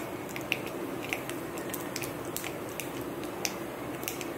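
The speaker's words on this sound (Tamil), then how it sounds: "இப்போ கடுகு நல்லா பொரியுது" Mustard seeds crackle and pop in hot sesame oil, giving scattered sharp spits and tiny bursts over a steady sizzling hiss, fairly close and moderately quiet, with no talking.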